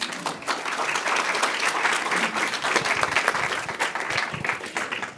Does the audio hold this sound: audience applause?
yes